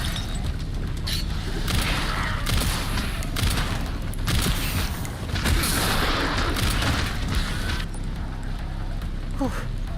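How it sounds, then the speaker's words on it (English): A grenade in Resident Evil, played as Leon, detonates amid continuous loud gunfire and booming game combat, with speech mixed into the busy action. "Grenade."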